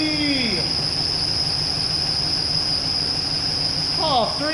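A stubborn engine runs steadily after finally starting, with a loud, shrill squeal that whines throughout and rises and falls in pitch near the start and again near the end.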